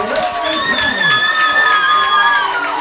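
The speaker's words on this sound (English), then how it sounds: "I believe it's just going to get a big roar from the crowd." Spectators at a high school football game roar and cheer loudly, with high shouts and whistles rising over the constant crowd noise for a few seconds.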